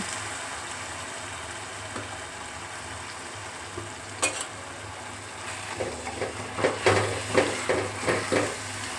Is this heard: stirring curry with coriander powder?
yes